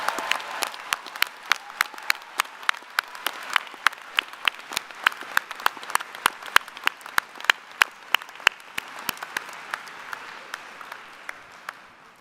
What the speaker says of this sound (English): let's give a round of applause to the spring graduating class